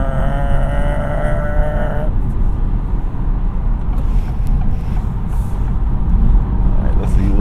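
Acura Integra with a CVT accelerating from inside the cabin, engine drone winding up steadily and staying loud without any break for a gearshift while a voice talks over it.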